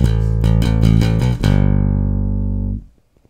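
A bass guitar plays a lick in a phrase of about seven quick picked notes, loud and close, with a final low note that sustains for over a second before cutting off, with no talking.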